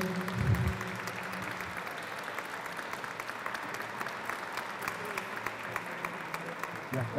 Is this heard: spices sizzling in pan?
no